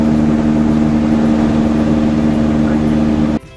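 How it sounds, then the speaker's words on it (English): A non-turbo 4.8 liter diesel engine in a JDM truck runs with a loud, steady, buzzy drone close by, then cuts off abruptly near the end. "It sounds like an angry Volkswagen bus."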